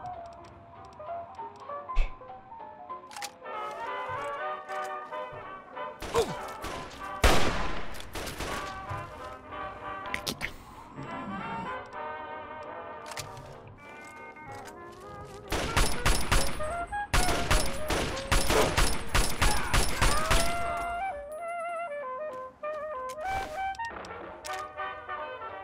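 Bursts of gunfire from weapons in modded Fallout 3 on PC crackle over steady game music, with scattered shots early on and heavy, dense volleys around the middle and again in a long loud stretch near the end.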